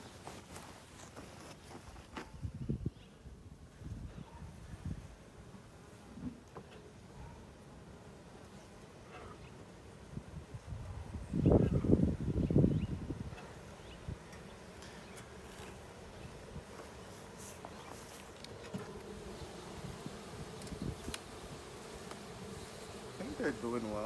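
Honeybees buzzing around an opened hive during an inspection with smoke, a faint steady hum close by, with handling bumps and one louder burst of buzzing midway.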